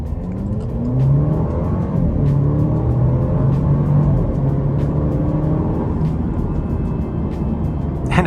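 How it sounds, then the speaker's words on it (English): A 2023 Alfa Romeo Giulia sport sedan accelerating hard in dynamic mode, its engine note climbing through gears with rising pitch sweeps and brief shift breaks, loud and steady from inside the cabin with no talking. "we're just gonna stomp on it and see how this car does."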